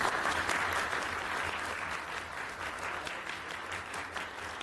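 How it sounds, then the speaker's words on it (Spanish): Steady audience applause at a Spanish-language academic event, continuous clapping from a crowd at moderate, even level with no talk. "a quien le pido un aplauso."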